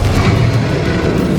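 A Confringo fire spell in Hogwarts Legacy makes a short, loud, dense boom that fills the whole moment with heavy low rumble. No speech is present.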